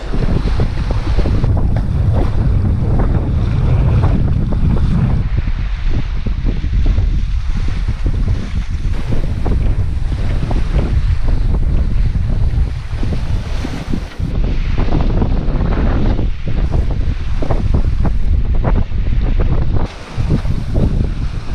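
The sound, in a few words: wind while sailing a boat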